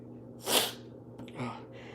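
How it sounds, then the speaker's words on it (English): A single sharp sneeze bursts out from one person close by, then a short snort-like breath follows, with quiet room tone between. "They're like some sneeze that was held off from Friday."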